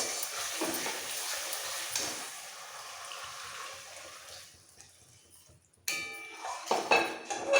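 Spices being stirred in a pan for a Katla fish kalia with cashew and poppy seed, a soft scraping and light sizzle that fades in the middle before louder clanks and stirring return near the end.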